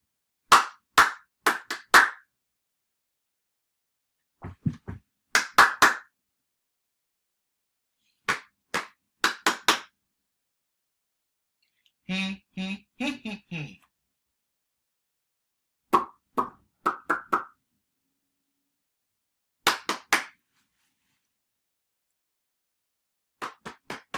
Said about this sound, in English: whenever I point at you, it's your turn to clap or do whatever body rhythm that I'm doing